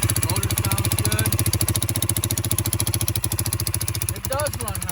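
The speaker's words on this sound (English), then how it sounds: "Motor sounds good." A 2008 Kawasaki quad's engine runs steadily at a near, loud idle with a rhythmic low throb and mechanical clatter, while people talk over it.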